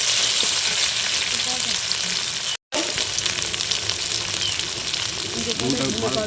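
Chopped onions with cardamom, cinnamon and bay leaves being fried until reddish, a loud steady sizzle with stirring scrapes, broken by a short silent gap midway.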